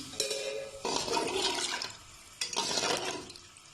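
Water pours into a pot of chicken for soup, about 1.5 litres, in two close, loud bursts of splashing and gushing with a short pause between them, and no talk over it.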